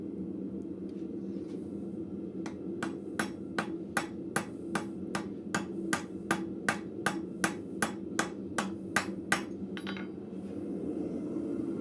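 A blacksmith hammers the corners off a square bolt on an anvil: about twenty sharp, evenly spaced metallic strikes ring out in a steady rhythm over a constant low shop hum.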